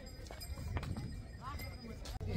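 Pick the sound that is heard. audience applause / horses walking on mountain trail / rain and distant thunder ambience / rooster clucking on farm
horses walking on mountain trail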